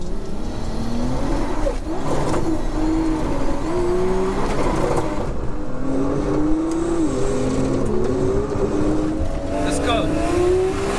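A Nissan R34 GTR, DCT Toyota Supra and R35 GTR Nismo accelerate hard in a roll race from about 50 mph, with loud, rising engine notes climbing through gears alongside speech.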